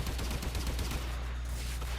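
Rapid, continuous bursts of automatic gunfire in the video game Warframe, a dense steady rattle at moderate level lasting the whole moment with no pauses and no voices.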